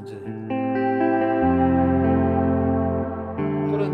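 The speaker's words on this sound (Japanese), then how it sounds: "空間系、空間というかこうモジュレーション系か、まあ、広がり感が出てくるね。" Guitar passing through the modulation and spatial setting of a Quartarone Reveries pedal, several chord changes with a shimmering, widened sustain, steady and moderately loud with no voices.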